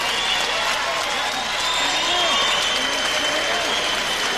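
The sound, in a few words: applause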